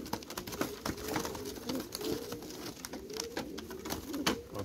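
Pigeons at a racing-pigeon breeder's loft cooing in soft repeated rolling calls, several overlapping continuously at moderate distance with faint background noise and no talk.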